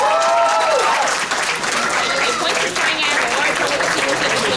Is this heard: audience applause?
yes